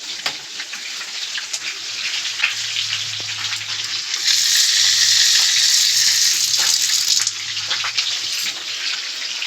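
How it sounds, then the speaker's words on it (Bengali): Water runs from a tap for a hand wash, a close, hissing stream that swells louder midway, then eases back while faint clattering continues around it. "হাতটা ধুয়ে আসি।"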